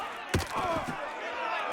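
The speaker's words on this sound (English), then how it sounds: "Hit him, Lone Wolf" A punch lands in a Red Dead Redemption 2 fistfight as one sharp close thud, set against a shouting crowd and ongoing commotion.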